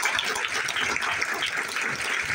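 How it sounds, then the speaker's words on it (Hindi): An audience at a business meeting in Thane breaks into a sustained round of applause, a dense, steady wash of many hands clapping together at moderate volume for a couple of seconds, with no voices over it. "ताली बजा दो एक बार।"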